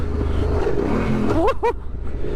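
Adventure motorcycle on a forest trail in Iron Stab National Forest, Rockmart, Georgia, riding over braking bumps. The engine drones steadily up close, with two quick rising revs near the end.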